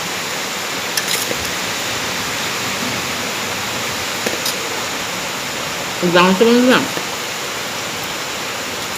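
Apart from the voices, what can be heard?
heavy rain falling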